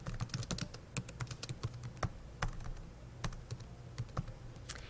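Rapid, uneven typing on a computer keyboard, close and crisp, the key clicks coming in quick bursts with short pauses and no talking.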